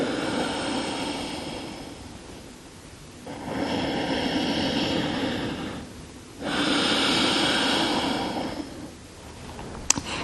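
Ujjayi breathing during a yoga flow: slow, audible breaths with a soft ocean-like hiss, alternating long inhales and exhales in a steady rhythm, close and alone.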